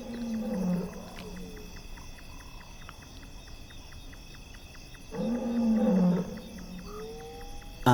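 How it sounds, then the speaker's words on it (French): Across the cold night air a male lion roars from far off in two long, low swells, one early and one late, over a steady chorus of insects. "Un rugissement lointain retentit dans l'air froid de la nuit."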